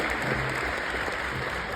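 Continuous applause from a conference audience thanking speakers, a steady crowd of clapping hands at an even level, with faint murmuring underneath.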